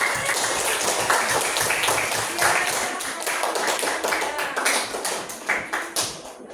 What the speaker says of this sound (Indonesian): Oke, tepuk tangan buat kelompok.